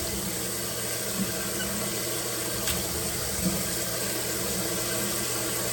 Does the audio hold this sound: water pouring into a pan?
yes